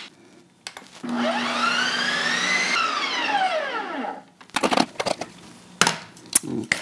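Ice cream maker respinning a frozen pint of keto egg-fast ice cream, a steady loud whirring grind with a rising then falling whine, then stopping into scattered clicks and handling knocks.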